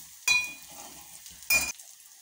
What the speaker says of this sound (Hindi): हल्का सा इसको भूनते हैं